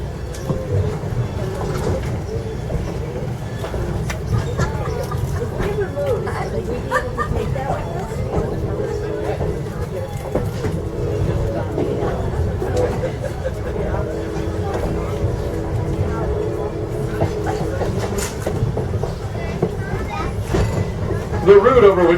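Passenger train ride on the Strasburg Railroad, with a continuous low rumble and rattle of the moving coach filling the whole stretch, and a loudspeaker announcement and passenger chatter over it.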